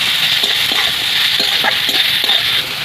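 Turmeric, chili and cumin sauté in a hot pan with oil, a steady, close crackling sizzle punctuated by several soft stirring knocks against the pan.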